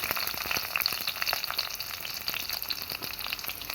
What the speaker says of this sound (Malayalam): വെളിച്ചെണ്ണ ചൂടായിട്ടുണ്ട് അതിലേക്ക് നമുക്ക് അരിഞ്ഞു വെച്ച ചെറിയുള്ളി ചേർക്കാം